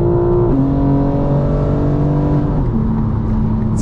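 A 2025 BMW M4 Competition xDrive engine droning loudly and steadily from inside the car as it drives, the pitch stepping down with gear changes.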